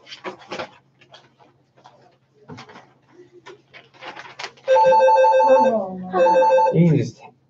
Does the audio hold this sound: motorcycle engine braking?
no